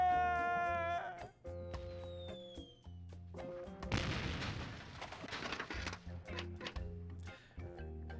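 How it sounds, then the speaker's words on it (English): Self-loading cannon aboard a pirate ship in The Curse of Monkey Island game fires with a loud crashing blast that rumbles and decays over several seconds, set against tonal game music. "Hey, it's one of those new self-loading cannons I've heard so much about."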